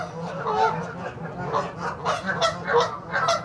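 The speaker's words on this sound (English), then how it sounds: "And these geese squawking joyfully, living their lives peacefully," Several geese honk and squawk in a steady, overlapping chorus at moderate distance on a pond, with no talking.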